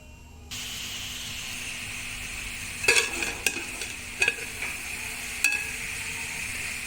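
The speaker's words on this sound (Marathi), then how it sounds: "याच्यामध्ये मी आता तूप घालून घेईन आणि गाजरं छान फ्राय करून घेईन" Grated carrot fries in ghee inside a pressure cooker, a steady close sizzle with a few sharp scraping stir strokes, no voices.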